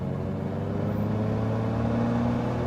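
Small airplane engine power rising for the takeoff roll on a cross-country leg, a steady loud droning hum with strong low harmonics that builds and holds continuously throughout.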